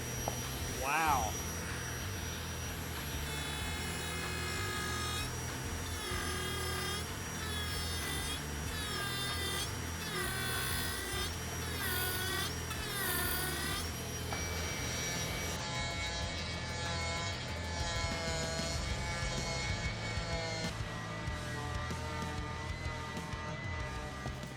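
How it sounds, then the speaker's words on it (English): Dremel 8260 cordless brushless rotary tool carving wood with a burr: a high whine that rises and falls as the bit bites, with grinding and buzzing throughout, alternating load changes in long passes. "I went ahead and switched to the Dremel 8260 cordless, brushless rotary tool because it is crazy powerful"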